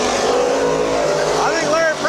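Race car engines roar loudly and continuously as cars run side by side on the final lap of a heat at Midvale Speedway, with a commentator talking over the constant motor noise.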